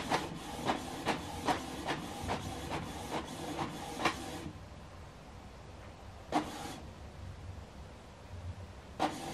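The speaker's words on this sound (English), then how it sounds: "Right now it's printing" A Canon PIXMA TS8350 inkjet printer prints, giving a run of rhythmic mechanical clicks and whirs as the head travels, then a quieter pause broken by a few more feed sounds.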